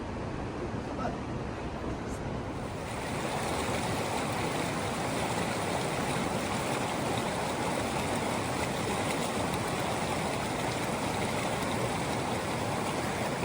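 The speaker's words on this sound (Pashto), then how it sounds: "لاندې اوبه بهیږي خوړ سیند" Steady rushing water flows without pause, a broad continuous wash like a river current, fairly close and even in loudness throughout.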